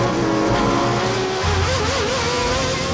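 A McLaren MP4 Formula 1 car driven by Ayrton Senna races on a track, its loud, close engine whine rising and shifting pitch as it accelerates, dense and roaring for the full stretch.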